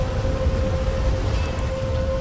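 Steady rain falling in GTA 5 at night near electric lines, a constant close hiss of drops with low rumble beneath and a faint tonal hum throughout.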